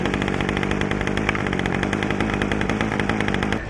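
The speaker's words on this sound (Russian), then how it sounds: "бензиновый триммер после зимовки завелся с первого раза" A petrol grass trimmer runs steadily and loudly throughout, its high buzzing two-stroke engine droning close by without pause before easing slightly at the very end.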